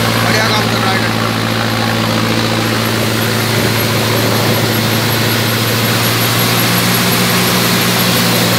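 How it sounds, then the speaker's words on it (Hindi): An Arjun Novo 605 DI tractor engine running steadily while working with a threshing machine, a loud continuous low drone with a constant hum, someone speaking over it. "बढ़िया काम कर रहा है ट्रैक्टर।"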